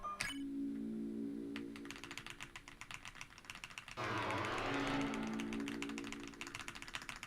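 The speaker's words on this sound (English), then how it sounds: "Y'all are gonna get to hear my keyboard a lot" Computer keyboard clattering in quick, irregular keystrokes during a Deltarune Chapter 1 speedrun, close and fairly quiet, mixed with game music and sound effects.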